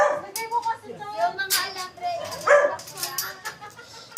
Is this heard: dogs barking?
yes